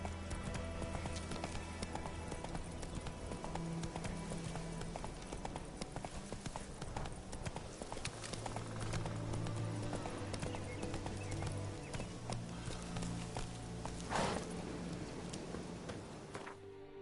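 Roach the horse galloping in The Witcher 3, a steady rapid clip-clop of hooves running continuously over a rumbling, noisy background.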